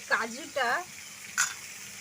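Pointed gourd (potol) being stirred and lightly fried in a pan, with a few short scraping stirs over a faint steady sizzle, close and fairly quiet.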